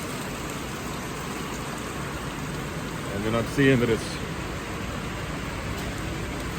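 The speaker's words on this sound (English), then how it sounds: "We're getting a serious downpour right now." Steady heavy rain downpour roars as a dense, constant hiss, with someone speaking briefly over it midway.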